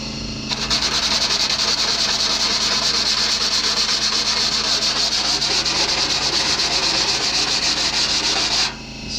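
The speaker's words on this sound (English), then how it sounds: "we just hit that with a little sandpaper and we're good." Steady rubbing of sandpaper over a rough spot on a Rocket Bunny body kit for a Mazda Miata, a continuous close, loud scratchy hiss lasting several seconds and then stopping abruptly.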